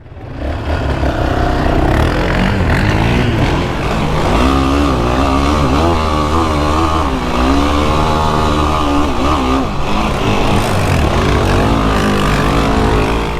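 A 2022 Yamaha Raptor sport ATV engine roars loud and close while ridden fast, its revs rising and falling continuously under a constant rough motor drone with no talking.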